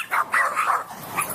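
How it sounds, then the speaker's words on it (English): Two loose dogs bark in a short burst of three or four sharp, yelping barks during a dog fight, moderately near and fairly loud. "Somebody's got two dogs running around loose. Ah, dog fight."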